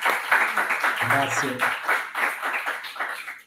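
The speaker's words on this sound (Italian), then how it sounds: "io con il pubblico che c'è qua in sala ti salutiamo, magari con un applauso" An audience in a lecture hall breaks into applause for a speaker at a talk on Latin and Sardinian, scattered clapping mixed with a voice speaking briefly over it.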